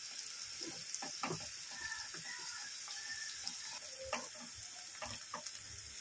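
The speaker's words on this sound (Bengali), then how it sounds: "পেঁয়াজটা একটু হালকা করে ভেজে নেব।" Onions fry lightly in a pan, a steady soft sizzle and hiss running throughout with occasional faint stirring ticks, fairly quiet and even.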